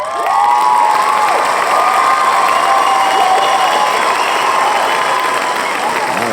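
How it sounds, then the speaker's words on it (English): A studio audience claps and cheers loudly and continuously, with whoops and shouts rising over dense applause throughout, close and energetic. "Clap it up, everybody."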